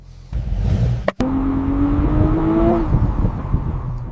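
Mercedes C63 engine running close by, a deep steady rumble with a sharp click and brief dip, then a rising revving tone before settling back to the idle drone.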